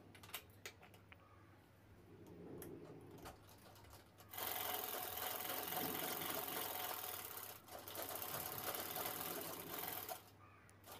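Sewing machine stitching piping onto fabric along the bottom hem: quiet handling at first, then a steady, loud mechanical whirr that runs for several seconds, dips briefly, and resumes before stopping.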